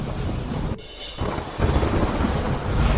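Heavy monsoon rain pours over Indiranagar in Bharuch, a dense close roar broken by deep rumbling thunder, with a brief lull before the downpour swells louder again.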